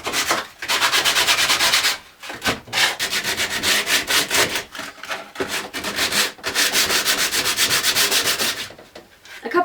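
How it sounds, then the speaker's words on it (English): Sandpaper wrapped around a sanding block rubs back and forth over painted wooden furniture, loud and close, in rhythmic scratchy strokes broken by brief pauses. "yourself a piece of sandpaper off and to fit it around it, like so. And there you go, sanding block,"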